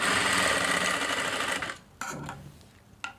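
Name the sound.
sewing machine stitching a pant pocket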